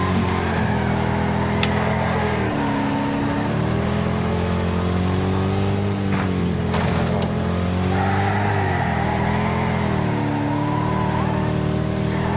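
A car engine in a racing video game drones steadily at mid revs, dipping and climbing in pitch as gears shift and the throttle eases and returns, loud and constant without talking.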